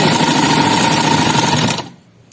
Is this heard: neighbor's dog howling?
no